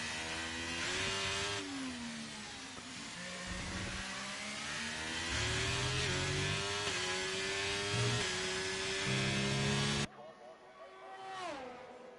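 Ferrari Formula 1 car on a hot lap at Great Britain in an F1 racing game, its high-pitched engine whining up and down through gear changes, with a commentator talking over it.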